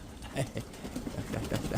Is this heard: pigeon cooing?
yes